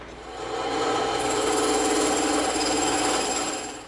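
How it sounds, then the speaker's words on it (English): A bandsaw rips through a piece of EVA foam with a steady, close, rasping hiss that swells and then eases off over a few seconds. "we're going to rip this out on the bandsaw real quick"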